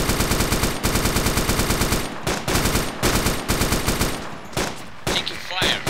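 Rapid automatic gunfire from a realistic 2019 war video game, loud and near in long rattling bursts separated by brief gaps, with a few more distant shots near the end.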